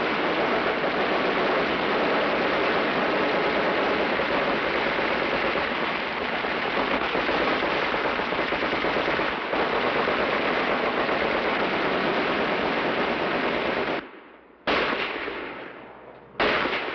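Machine gun on a 1941 tank firing steadily at targets on a firing range, a loud, dense continuous rattle lasting many seconds before cutting off abruptly, then two brief final bursts.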